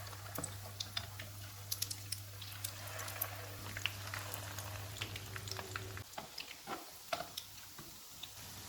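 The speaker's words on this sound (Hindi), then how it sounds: "कबाब फ्राई हो गए हैं, इनको निकाल लेते हैं।" Aloo gosht kebabs fry in hot oil on a medium-low flame, a faint, steady crackling sizzle dotted with small pops, with a low hum under it that cuts out partway through.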